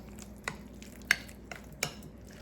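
Leftovers get stirred in a pan, a few sharp scrapes and clinks of a utensil against the metal spaced about half a second apart over a low background hum.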